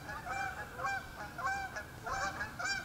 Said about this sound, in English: Oh, there go the geese. The geese are coming back.